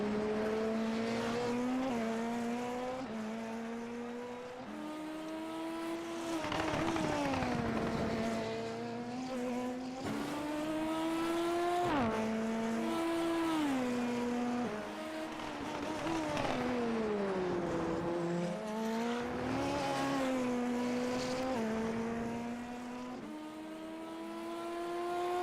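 A racing-game open-wheel hyper formula car lapping Montreal's Canadian Grand Prix circuit, heard onboard: a steady high engine whine rising and falling through upshifts and downshifts, braking and accelerating across the whole lap with little talk.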